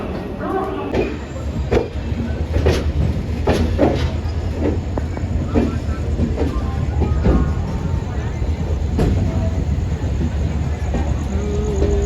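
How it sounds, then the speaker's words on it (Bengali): A passenger train just departing Howrah rumbles steadily along the track toward Bardhaman, a constant low roar with faint rattling, heard from inside the carriage. "এই মুহূর্তে আমাদের ট্রেন ছেড়ে দিল"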